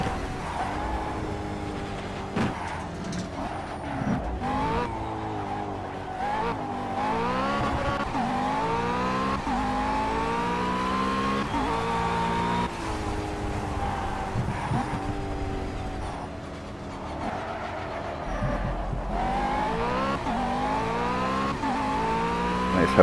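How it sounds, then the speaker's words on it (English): A McLaren 12C in the racing simulator Project Cars, driven along winding California coastal roads, revs steadily with rising and falling engine pitch through gear changes, loud and continuous, with brief tire noise. "This is a game called Project Cars. It's basically a car racing simulator."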